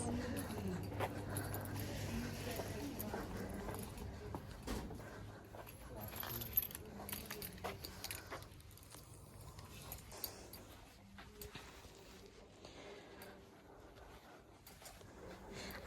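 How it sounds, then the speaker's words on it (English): Keys jangle faintly in a charity shop, as soft intermittent metallic clinks over low background noise. "Jangly jangly keys."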